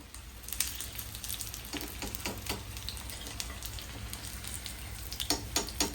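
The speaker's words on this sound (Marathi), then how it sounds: "आता मस्त मस्तपैकी सर्व सुतली बॉम्ब पॅन मध्ये आपण टाकलेले आहेत" Sutli bomb snacks frying in oil in a pan give a soft, steady sizzle with scattered sharp crackles and pops, heard fairly quietly up close.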